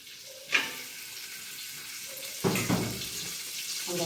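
Licorice root roasting lightly in oil in a pan, a quiet sizzle with a few sharp clatters of stirring.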